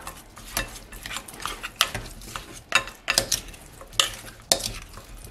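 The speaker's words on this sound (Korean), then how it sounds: "헹군 고기를 넣고 계량해둔 양념들을 넣어줍니다. 잘 버무려주세요." Rinsed pork being tossed and mixed by hand or spoon with measured marinade seasonings in a bowl: close, irregular wet stirring and clinking strokes in a steady rhythm, with no talking.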